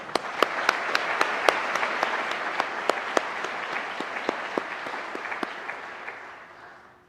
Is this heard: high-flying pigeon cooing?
no